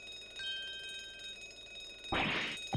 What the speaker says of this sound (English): So it appears to be an alarm bell.